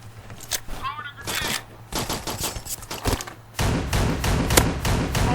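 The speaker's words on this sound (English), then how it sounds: "Let's throw a grenade on him." Gunfire and a frag grenade explosion in the shooter game Forward Assault: rapid bursts of shots, then a heavy dense blast that stays loud, with a voice talking over parts of it.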